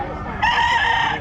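A rooster crows nearby, a loud, bright, drawn-out call that begins abruptly partway in and carries to the end, with faint background murmur beneath it.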